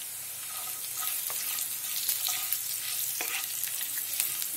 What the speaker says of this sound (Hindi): इसे भून लेते हैं अच्छे से।